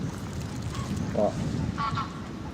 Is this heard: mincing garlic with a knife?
no